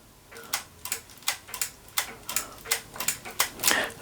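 Keys clack on a Bell Punch PLUS Adder 509/F mechanical adding machine, a run of a dozen or so close, crisp mechanical clicks at an uneven typing pace, with faint ratcheting between presses and no voices.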